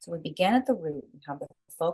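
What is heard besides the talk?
No everyday noise stands out behind the speech.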